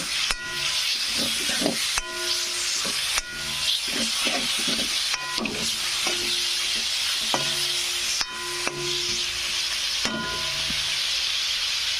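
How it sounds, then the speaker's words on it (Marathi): Mutton keema cooks in a pan with a steady, close hiss and sizzle throughout, broken by occasional stirring scrapes and clinks at irregular intervals. "मस्तपैकी मटणाचा खिमा बनवून घ्यायचा. नंतर शिजू द्यायचं."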